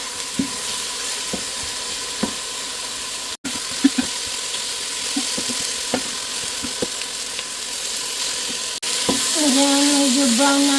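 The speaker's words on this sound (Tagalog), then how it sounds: "Haluin natin hanggang maging brown yung ating chicken." Chicken pieces frying in a pan with black pepper, sizzling steadily while being stirred, with repeated scraping knocks from the spoon throughout.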